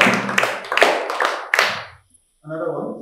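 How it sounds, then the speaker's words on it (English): Students in a school classroom clap together in a short, uneven burst of hand claps lasting about two seconds, then it falls quiet before a voice speaks briefly. "Alright, clap that."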